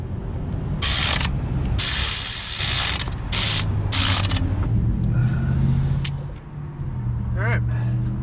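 Ratchet wrench tightening bolts on a Jeep, with bursts of quick clicking cranks close by, mixed with mechanical clatter and someone talking at times.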